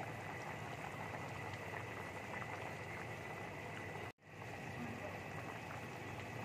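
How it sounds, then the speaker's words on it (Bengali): Potato and cauliflower curry bubbles in a pot, a steady close simmering hiss and burble that cuts out briefly near the end and then resumes. "দেখো ঝোলটা আমার ফুটে গেছে, কপিটা আমার রান্না হয়ে গেছে।"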